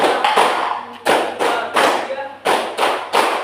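A group of people clapping hands together in unison to a four-count during a coaching session, sharp loud claps falling in a steady repeating rhythm close by.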